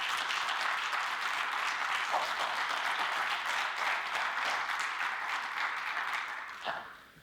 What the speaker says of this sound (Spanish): Recibamos a Luis de Miguel con un caluroso aplauso.